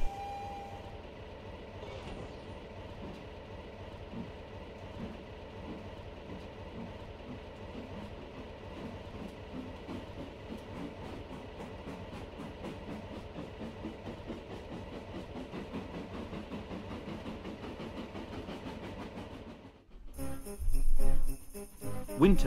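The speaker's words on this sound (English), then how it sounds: "And off went Thomas." Steam tank engine running on rails, a steady rumbling clatter with rhythmic wheel beats, close and continuous, rising in loudness near the end.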